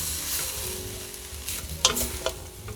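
Cabbage, mushrooms and onion being stirred in a hot frying pan for a vegan bigos, a steady close sizzle broken by a few sharp scraping clicks of the spoon near the end.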